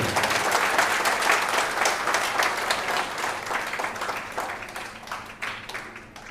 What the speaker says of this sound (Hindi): और जोरदार तालियां बजा लीजिए अपने लिए।